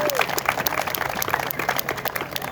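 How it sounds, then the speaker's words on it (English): An audience claps at a street naming ceremony, loud dense applause with individual sharp claps standing out, sustained throughout. "Can y'all give her a round of applause"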